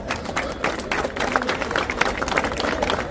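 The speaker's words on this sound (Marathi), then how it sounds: "उपस्थित आहे त्यांच्यासाठी जोरदार टाळ्या पाहिजे एकदा" Applause from a crowd gathered at a Govinda Pathak practice in Jogeshwari, with steady, lively clapping from many people and faint voices mixed in.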